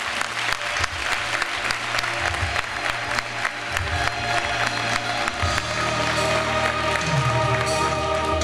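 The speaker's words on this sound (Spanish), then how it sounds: "aplauso" Crowd applause at a public political event held by the PSOE, sustained and dense clapping from a large audience with some cheering mixed in, steady and loud from start to finish.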